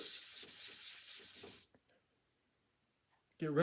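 The bottom of a brass gear-train nut from a Columbia cabinet phonograph rubbed on 360 grit sandpaper over a flat anvil, brisk close rasping strokes for a second and a half, then silence, and a voice at the end.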